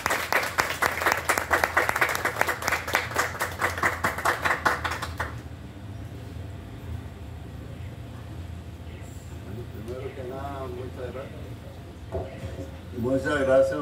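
Audience applause at a cantonal anniversary celebration in Sarchí, a loud burst of clapping for about five seconds that cuts off abruptly, followed by quieter speech from a man over a low hum.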